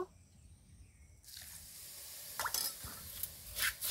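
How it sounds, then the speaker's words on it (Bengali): Salt water is poured onto rice heating in a pan, starting as a faint quiet stretch that breaks into a sudden hiss and sizzle, then soft drips and crackles as the liquid meets the hot grains. "এবারে আমি 1 চামচ লবণ জল দিয়ে দেব"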